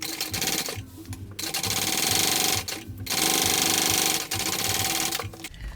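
Sewing machine running in bursts while top stitching the folded top trim of a Baby Belle bucket bag, three sustained runs of steady rapid stitching separated by short pauses, close and loud with no talking.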